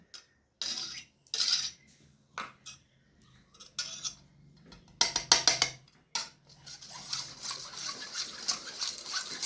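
A spoon stirs aloe vera gel in a bowl in short bursts of clinking and scraping, separated by quiet gaps, with a longer stretch of continuous stirring toward the end; no talking.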